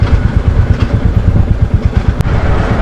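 Motorcycle engine idling in neutral on a mountain off-road ride, a close, loud low-pitched rhythmic thumping pulse that stays steady throughout, with one brief sharp click near the end.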